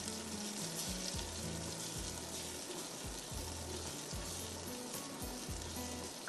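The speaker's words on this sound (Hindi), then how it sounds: "अच्छी तरह इसको आप भूनिए।" Masala frying for tandoori mutton, a steady loud sizzle filling the whole stretch, with a low rhythmic pulsing that suggests stirring or cooking motion underneath; no talk.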